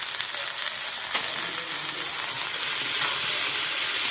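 Spices such as turmeric and chilli powder fry in oil in a pan, a steady, close, loud sizzle with a dense hiss that holds without a break from start to finish.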